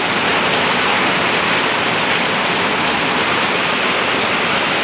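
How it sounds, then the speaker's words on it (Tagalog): Heavy rain pouring down in a dense, unbroken roar, loud and constant with no pauses, during a downpour so intense that the neighbouring house can barely be seen. "Sa lakas ng ulan po,"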